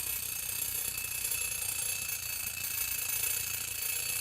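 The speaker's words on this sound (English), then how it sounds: "Don't you hear that alarm clock?" An alarm clock rings continuously, a steady, shrill electronic buzz that holds at an even level for several seconds without pause, heard alone.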